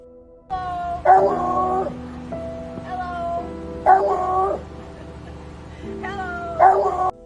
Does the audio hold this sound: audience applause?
no